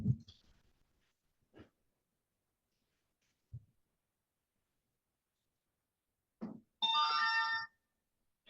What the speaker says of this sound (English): Sorry, I can't get my phone to turn off or turn down or anything or even answer it.